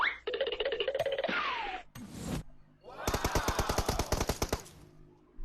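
A DP machine gun fires in the mobile game PUBG Mobile: a short burst, a pause, then a fast, loud, evenly spaced string of shots heard close up, with no speech.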